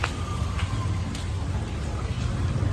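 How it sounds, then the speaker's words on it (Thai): Rain falls steadily during a storm outside a noodle shop, a dense even patter and hiss with a low rumble beneath and no clear breaks. "วันนี้ฝนตกอ่ะ"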